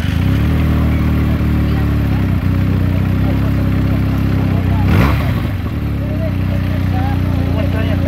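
A modified Benelli TNT 300 motorcycle engine runs loudly and continuously, rumbling close by with a brief rev midway.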